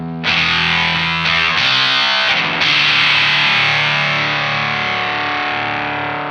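An electric guitar played through a Jam Pedals Octaurus LTD octave fuzz pedal, a loud, gnarly distorted chord struck and re-struck a few times before ringing out thick and sustained.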